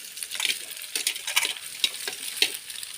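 Pasta being stirred into scrambled egg in a frying pan, a light continuous sizzle with quick clicking and scraping spatula strokes heard up close, no one speaking.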